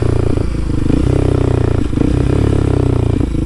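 A Kawasaki KLX 230SM supermoto rides on new tires with its engine droning steadily and close, the note dipping and rising slightly as the rider leans through corners.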